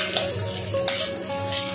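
Garlic fries in a pan for a stir-fried bucai vegetable dish with ginger and white chilli, a steady close sizzle with a couple of quick stirring scrapes and a faint hum underneath.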